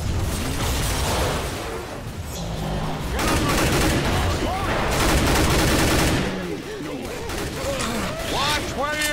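Rapid bursts of gunfire in Left 4 Dead 2 rattle almost continuously, loud and dense, with shouted voices mixed underneath the shooting.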